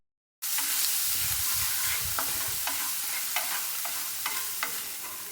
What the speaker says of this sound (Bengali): এবারে মশলাগুলো ভালো করে ভেজে নিতে হবে।